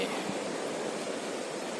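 A continuous broad rush of ocean surf below a cliff, steady and moderately distant, with no voices.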